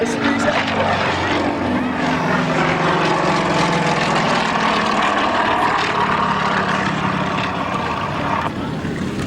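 An IAC 50 light aircraft's engine drones steadily at an August 1997 air show in Abbeyshrule, a loud continuous propeller hum with crowd and announcer voices mixed in throughout.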